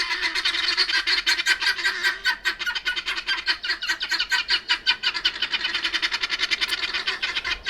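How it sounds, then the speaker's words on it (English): Guinea fowl call noisily at close range in a dense, continuous stream of harsh rhythmic cries, kept up without pause through the whole stretch with no talking. "I have guinea fowl."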